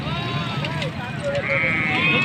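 Goats bleat at a busy livestock market, a few wavering cries rising over a steady crowd murmur while someone talks nearby.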